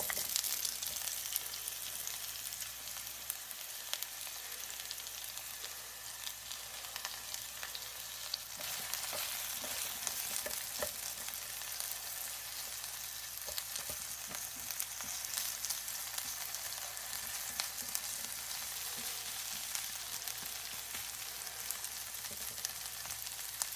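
Onions frying in hot olive oil in a pan on medium-high heat give a steady, dense sizzle and crackle throughout, with no talking.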